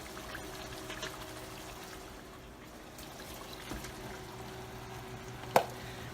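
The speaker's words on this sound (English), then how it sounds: "Now pouring in the rice could be a little tricky" Rice being poured into a pot of water for an Afghan Uzbek palou, a quiet continuous wash of trickling and pouring over room tone, ending with one sharp clink near the close.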